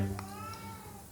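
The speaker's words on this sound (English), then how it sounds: "now you can probably hear my cat Nora, who is desperately in heat outside of the door" A cat in heat meows from outside a door, one drawn-out, wavering cry that is heard clearly though slightly muffled by the door, with no talk over it.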